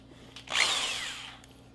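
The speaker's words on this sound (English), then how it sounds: "and drill a hole" A power drill bores into a thin aluminum soda can, a brief whining burst that rises sharply, holds with a high metallic screech, then fades out after about a second.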